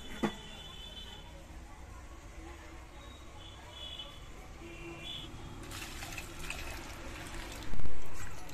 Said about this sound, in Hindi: अब इसे उतार लेंगे और ठंडे पानी से अच्छे से धो लेंगे